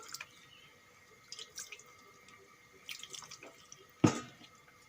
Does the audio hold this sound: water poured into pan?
yes